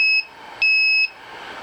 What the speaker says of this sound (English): you'll get a beeping sound telling you that it's good